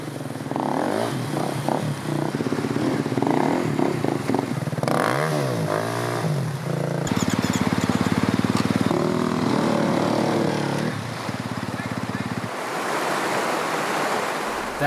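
Motorcycles labour through a rocky river crossing in the Guatemalan jungle, engines revving and surging over a constant rush of moving water, loud and close throughout.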